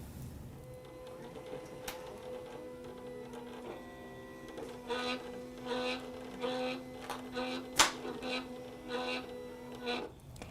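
A Silhouette vinyl cutting machine slices stencil vinyl, giving a steady motorized whir with stepping tones and short bursts of carriage movement and clicks throughout, close and clear with no talk.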